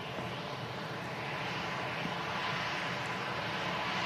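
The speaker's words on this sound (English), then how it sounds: "Whiskey India on the edge of this arriving EasyJet." An EasyJet airliner arriving at Manchester Airport, its engines producing a steady broadband roar that holds evenly loud for the whole stretch, with no voices over it.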